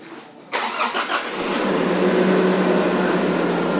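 A car engine cranks and catches, then settles into a steady, loud idle that hums on evenly without any voices; the car has a damaged alternator pulley and a broken fan belt.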